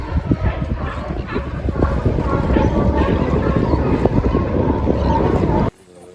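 Strong wind rushing and buffeting across a sailboat on Monterey Bay at around 9 knots, with loud close gusts and a muffled voice under the noise before it cuts off abruptly.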